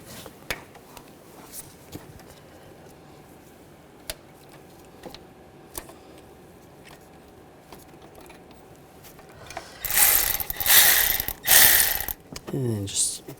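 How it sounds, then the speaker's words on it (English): Ratchet with an 18mm socket loosening the starter bolt on a 2011-2018 Volkswagen Jetta, faint scattered clicks, then a loud burst of rapid ratcheting near the end, close up. "I'm using a 18mm socket. Loosen this bolt up."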